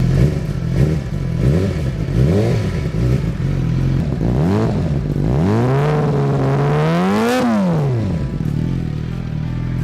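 Suzuki GSX-R 600 2007 sportbike with a straight exhaust, revved repeatedly in rising and falling blips before climbing into a long high-pitched scream and dropping back, loud and close with no talking.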